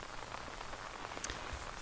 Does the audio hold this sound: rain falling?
yes